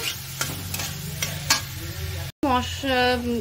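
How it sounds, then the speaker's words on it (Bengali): Spice paste being fried in oil for a fish-head and cabbage dish: a close sizzle with several sharp stirring scrapes, broken by a brief cut, then a short tonal voice-like sound over the frying. "দিয়ে ভালো করে মশলাটাকে কষিয়ে নিচ্ছি"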